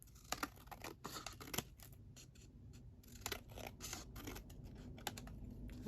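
Scissors snip through paper scraps for a handmade journal, giving close, irregular crisp cuts and rustles over a low background hum.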